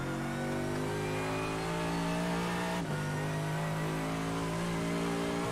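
A GT race car at the Nürburgring Gesamtstrecke, heard onboard with its engine holding a steady high-revving drone, dipping briefly at a shift before climbing again, loud and close with no talk.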